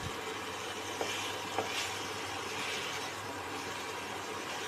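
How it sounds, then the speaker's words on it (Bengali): Meat braising without oil in a covered pan hisses with a faint, steady sizzle, broken by a couple of soft scraping stirs as the lid comes off. "একটু বাদে বাদে আপনার ঢাকনাটা খুলে নেড়ে দেবো"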